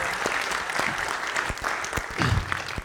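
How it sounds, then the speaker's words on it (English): A church audience at a Coptic Orthodox gathering in Bakersfield, California bursts into applause, steady clapping from many hands with a few louder claps standing out, filling the room for about three seconds. "Can we give a round of applause, please?"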